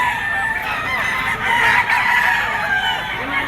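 A young gamecock stag crows amid a busy Bocaue, Bulacan fowl market, the crow rising over steady crowd chatter and other birds.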